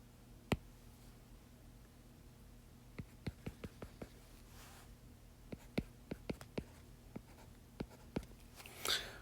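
Pen or marker strokes while drawing a vertical asymptote on a math graph come as faint, sparse ticks and short scratches over a quiet hum.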